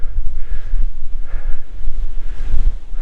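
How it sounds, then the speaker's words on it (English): Strong gusty wind buffets the microphone on a hilltop in the Yorkshire Dales, a loud, continuous low rumble with surging gusts and no voices. "It is quite windy."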